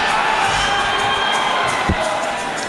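A crowd at a Cage Titans MMA fight cheering and shouting loudly and continuously, a dense roar with whoops, heard without talk.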